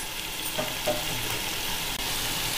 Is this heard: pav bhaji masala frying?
yes